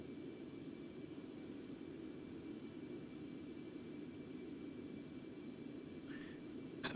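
Concorde jet engines at full throttle in the X-Plane 11 simulator give a steady, low, broadband roar with constant hiss, faint and unbroken throughout, with a brief click near the end.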